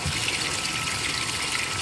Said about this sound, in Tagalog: May tubig na ang hose niya.